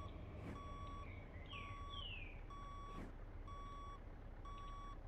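Truck reversing beeper from a Scania 113 in Grand Truck Simulator, sounding five evenly spaced electronic beeps over steady engine rumble, with brief air-brake style hisses in between while parking.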